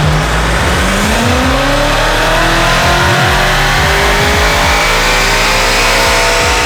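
A BMW M5 engine revs hard on a dyno run, loud and close, its tone sweeping steadily upward through the gears with a roaring exhaust and no talk over it.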